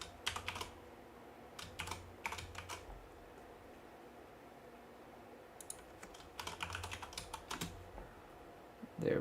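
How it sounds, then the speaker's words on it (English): Someone typing a code on a computer keyboard: quiet, close clusters of rapid key clicks in short bursts separated by pauses, with faint room noise between. "Let me type in the code."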